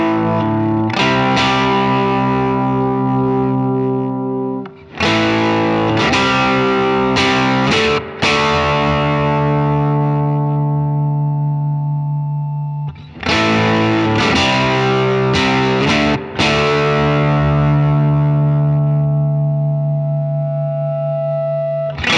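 Electric guitar played through an Origin Effects Revival Drive pedal into a Deluxe Reverb amp, with loud overdriven chords and single notes in two long phrases, sustained and ringing with slight reverb, and no talking.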